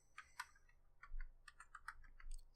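Quick, light keystrokes on a new computer keyboard patter in an irregular rhythm, close but quiet, with no voices.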